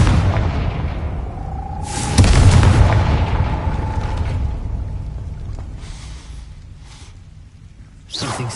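A Confringo blasting curse goes off in a Harry Potter video game, a loud booming blast with a sharp crack and rumbling decay, a lingering tone beneath, then a second burst near the end.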